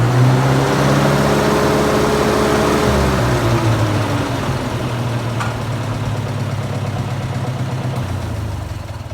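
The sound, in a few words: Massey Harris 50 tractor engine running with new exhaust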